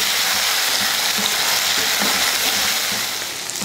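Tomatoes and onions sauté in a hot pan for a South Indian kulambu, a loud, dense, continuous sizzle close up with faint stirring beneath it.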